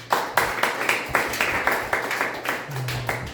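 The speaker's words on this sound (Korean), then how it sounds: "박수를 드리겠습니다." Worshippers at a church service clap for their pastor in an even, rhythmic beat of about a dozen hand claps, close and fairly loud, from a small gathering.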